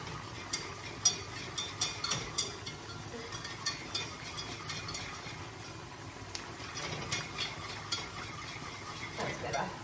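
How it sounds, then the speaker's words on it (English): A sauce being whisked in a bowl, heard as a steady run of light, quick scraping and clinking strokes at moderate level with no talk. "So just whisking to incorporate, and it's going to thicken up really quickly."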